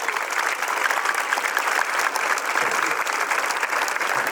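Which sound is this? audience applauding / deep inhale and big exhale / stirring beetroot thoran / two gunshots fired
audience applauding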